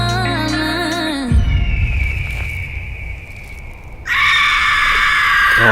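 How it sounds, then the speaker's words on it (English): A loud, high shrieking scream cuts in over the music of a pop song, breaking through a dense backing track that thickens again near the end. "what is that scream?"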